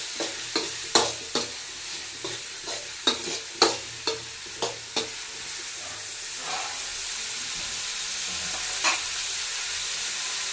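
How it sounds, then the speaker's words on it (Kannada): Onions frying in oil on a high flame for simple egg rice give a steady close hiss, with a run of quick spatula scrapes and taps early on, then a smoother sizzle with an occasional stir, and no voices. "ಇವಾಗ ಅದನ್ನು ಸ್ವಲ್ಪ ಡೀಪಾಗಿ ಫ್ರೈ ಮಾಡ್ಕೋಬೇಕು."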